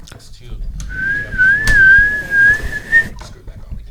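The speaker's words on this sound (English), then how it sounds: "Why are you whistling on podcast?" A person whistles a single sustained, slightly wavering note for about two seconds during a podcast recording, close and clear, with faint room noise and brief background sounds around it.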